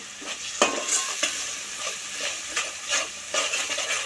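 Ginger stirred into goat head curry in a hot pan, a close, continuous sizzle broken by repeated scraping spatula strokes and a few sharp clinks, no voices.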